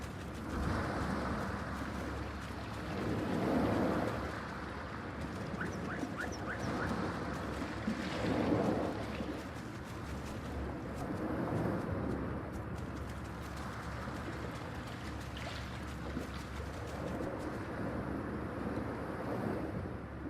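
A boat sails across open ocean in the game Ylands, with soft rolling surf and wind washing past in slow swells and faint bird calls above, gentle and distant, with no voices.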